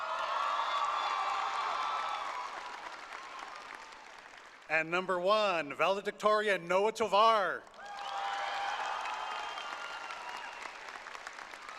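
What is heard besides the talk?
graduation audience applause for the top 10 seniors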